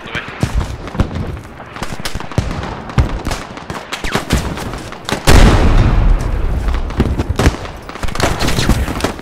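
Mortar rounds and hail cannon fire in the military shooter game Squad, Middle East Escalation mod: dense, loud volleys of booming impacts and rapid gunfire bursts, with a heavy close blast midway.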